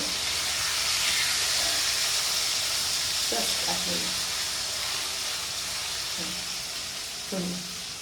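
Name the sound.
marinated chicken frying in a pan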